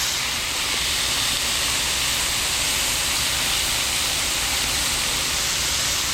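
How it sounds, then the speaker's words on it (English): Steady, loud broadband sizzling of chicken frying in a hot pan, a continuous hiss with no talking over it. "Listen to the sizzle."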